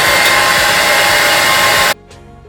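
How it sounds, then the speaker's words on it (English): Blow dryer drying baby hairs, a loud steady whooshing roar that runs for about two seconds and then cuts off abruptly, followed by a faint short motor wind-down. "Take my blow dryer and I'm just gonna dry tap into my baby hairs."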